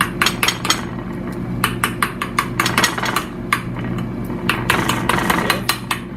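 Fork pricking a pork loin for tonkatsu, rapid close-up metallic taps striking a board in quick irregular bursts over a faint steady hum.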